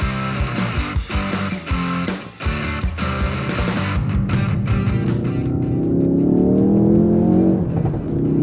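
Ford Focus RS MK3 with a 2.3-litre turbocharged four-cylinder and all-wheel drive, revved hard in a series of sharp, loud blips that give way to a sustained rising engine roar, close by with no voices.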